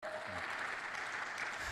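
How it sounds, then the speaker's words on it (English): A brief burst of audience applause at a healthcare panel session, a dense steady spatter of clapping hands that is fairly faint and distant and lasts under two seconds. "let's give a warm round of applause"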